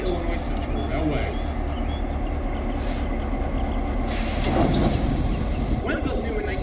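A 1954 EMD GP9 diesel-electric locomotive, number 4617 and formerly Illinois Central 9043, runs with a low, steady engine rumble and bursts of air hiss, while a voice talks over it.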